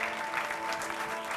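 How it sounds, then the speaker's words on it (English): A festival industry meetings audience at the San Sebastián film festival claps steadily for a short stretch, a dense even patter of many hands with no voices over it. "welcome all of them with a big applause."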